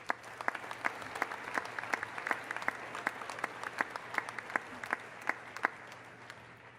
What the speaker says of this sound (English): Let's give another round of applause for our amazing professors.